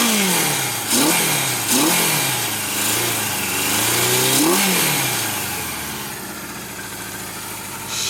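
A 1976 Kawasaki KZ motorcycle engine runs close by, revving up and down in several rising and falling sweeps before settling toward a lower, steadier idle, with no talking over it.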